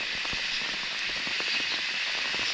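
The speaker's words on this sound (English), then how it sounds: "it's begun to rain" Rain falls on a coffee estate, a steady hiss with irregular close drips and patters striking foliage and surfaces.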